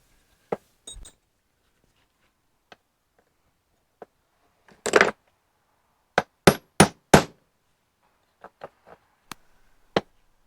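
A pin is tapped out of a 1961 Triumph TR4 handbrake with a series of sharp metallic taps and clinks, close and isolated, arriving in irregular clusters with quiet gaps between them.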